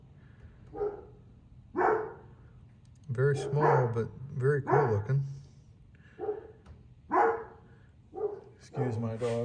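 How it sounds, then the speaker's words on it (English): Several dogs bark and yip in short bursts around a backyard setting, fairly close and loud, with some whimpering tones, while someone talks in between. "Excuse my dogs barking."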